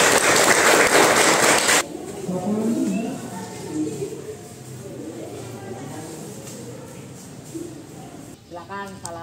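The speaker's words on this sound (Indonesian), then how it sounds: "Bagus, tepuk tangan." Students clapping together in a floor-gymnastics class, a loud burst of applause for about two seconds that cuts off sharply, followed by a teacher talking.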